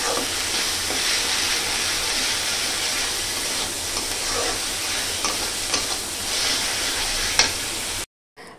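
Onion frying with garlic paste and cumin paste in a pan, a steady dense sizzle with stirring scrapes throughout, loud and close, cutting off abruptly near the end.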